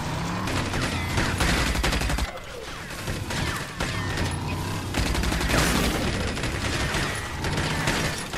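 Dense, continuous gunfire rattles loudly in RAGE at the Feltrite Refinery, rapid shots overlapping throughout with a brief lull midway.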